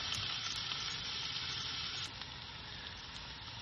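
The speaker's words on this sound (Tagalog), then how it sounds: "Brown lang natin yung sibuyas at saka bawang bago natin ilagay yung ibang" Chopped onion and garlic browning in a hot pan give off a steady, dense sizzle that runs unbroken at close range, easing off slightly partway through, with no one talking.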